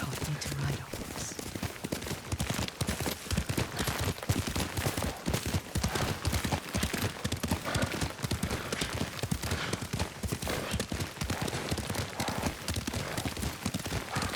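Rapid, rhythmic clip-clop of horse hooves at a steady gallop in a video game, close and continuous throughout, with no talking.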